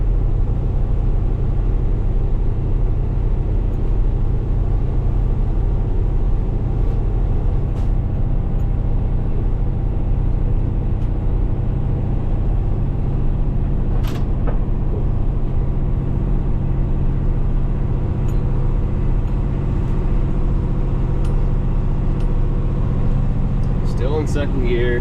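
A 2025 Kenworth T880 truck grinding up a very steep, rough road in 2nd gear with its engine churning a steady, heavy low rumble throughout, a few faint knocks and rattles rising over it near the end.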